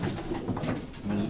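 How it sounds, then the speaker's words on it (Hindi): Pigeons of the Bateray breed from Sialkot coo softly and continuously nearby in their cages, low rolling calls overlapping without pause. "ये इन कबूतरों को आप देखें"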